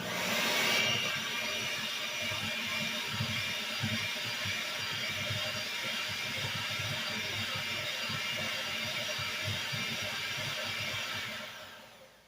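A kitchen stand mixer churns cookie dough for black and white walnut cookies, a steady, close motor whir running unbroken for about eleven seconds before quickly winding down.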